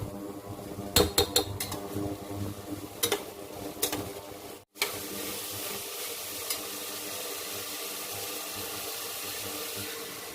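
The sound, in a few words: stirring dal with ginger in a cooking pot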